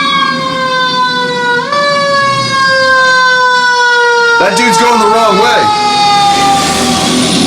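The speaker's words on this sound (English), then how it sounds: "So that's a fire truck." A fire truck siren wails outside, loud and sweeping in long rising and falling tones, with an air horn blast joining partway through as it passes; someone talks briefly over it.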